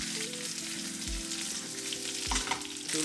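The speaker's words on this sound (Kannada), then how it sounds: "ಇವಾಗ 1 ಈರುಳ್ಳಿ ಹಾಕ್ಕೊತಾ ಇದ್ದೀನಿ. ಸ್ಲೈಸ್ ಮಾಡ್ಕೊಂಡಿದ್ದೀನಿ 1 ಈರುಳ್ಳಿನ." Sliced onion frying in oil in a pan for masala puri, with fennel already in, gives a steady close sizzle with soft stirring scrapes and a couple of low knocks throughout.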